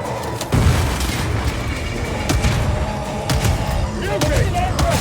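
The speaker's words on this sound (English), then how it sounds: "Grenade!" A grenade blast in Warhammer 40K: Darktide sets off a sharp, heavy boom over a churning horde-combat din, with gunfire cracks and voices shouting through the chaos.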